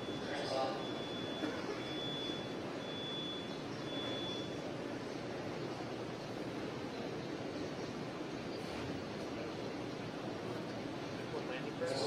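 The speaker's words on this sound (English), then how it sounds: "Landing burn has begun." A Falcon 9 first stage's center Merlin engine fires its landing burn while descending toward the LZ1 pad, a steady, broad roar heard from a distance that holds evenly throughout without a clear start or end.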